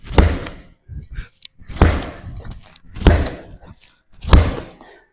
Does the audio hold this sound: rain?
no